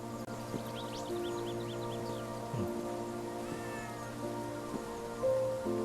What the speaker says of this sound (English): That was a cat that I actually witnessed that time.